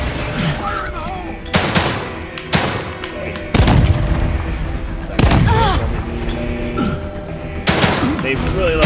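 Booming grenade blasts and bursts of gunfire in The Evil Within 2 game combat, several heavy explosions spaced a second or two apart over a continuous rumble, with voices shouting in between.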